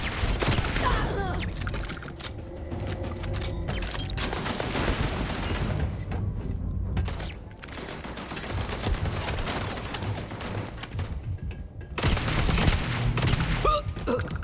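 Rapid gunfire from a fast-firing gun in the space game Starfield: dense, sustained volleys of loud shots run almost continuously, with brief lulls and a heavier burst near the end.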